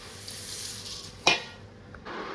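Puffed rice mamra mix stirred in a container, a soft continuous dry rustle with one sharp clink of a spoon against the side partway through, close and quiet.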